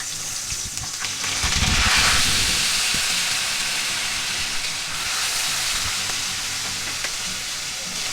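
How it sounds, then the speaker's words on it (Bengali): Small puti fish hit hot oil in a wok, setting off a loud burst of sizzling that settles into a steady, close frying hiss with faint stirring, no voices. "তেল গরম হয়ে গেছে, মাছ দিচ্ছি।"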